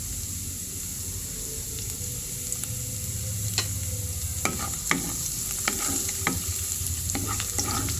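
Garlic sizzles steadily in a hot pan while vegetable lumpia filling is cooked, with several sharp scraping stirs of a utensil against the pan over the hiss.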